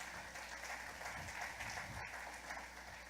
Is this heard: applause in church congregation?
yes